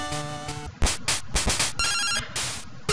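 A phone ringing in the Game Boy Color game Pokemon Silver: an electronic chiptune ring of rapid, buzzy pulses repeating in bursts, loud and alone.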